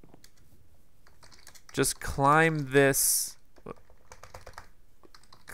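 Rapid typing on a computer keyboard during a Minecraft session, steady soft key clicks running throughout, with a person speaking briefly in the middle.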